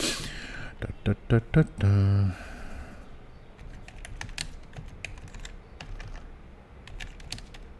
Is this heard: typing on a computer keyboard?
yes